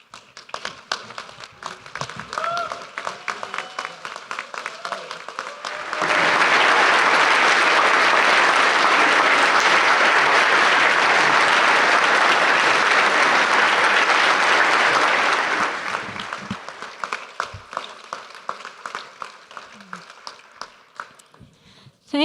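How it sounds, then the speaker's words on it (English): Loud, sustained audience applause at an induction ceremony as Dr. Erin comes forward. It swells abruptly, holds dense and even for about ten seconds, then fades into scattered claps and small room noises. "Ladies and gentlemen, please stand and applaud Dr."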